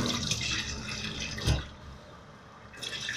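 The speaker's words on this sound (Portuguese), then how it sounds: "Vou passar aqui a mão por água." A kitchen tap runs water over a used aluminium coffee capsule being rinsed, a steady hiss with a brief splashy surge in the middle, then a quieter lull before the flow picks up again.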